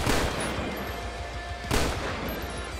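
Handgun fire in GTA V with modded weapon sounds, a dense run of repeated shots with a heavy burst near the end, loud and echoing throughout.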